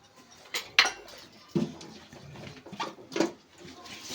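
Undhiyu muthiya mixture is mixed with a little oil in a bowl, with soft scattered clinks and scrapes of a utensil against the vessel, quiet and close, in irregular bursts.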